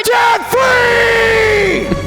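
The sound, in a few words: couple screaming a debt-free scream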